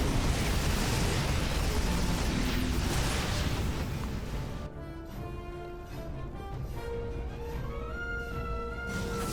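StarCraft 2 units fire a volley at a planetary fortress amid explosions: a dense roaring wash of blasts for several seconds that thins into scattered pops, with layered tonal game effects and music tones rising in the later part.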